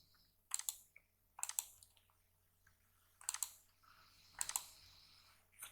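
Computer keyboard and mouse clicks in a quiet room: four short separate bursts of crisp clicking, close and faint, with near silence between them.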